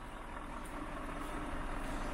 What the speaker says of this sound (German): Ich koppel gerade den Scania ab.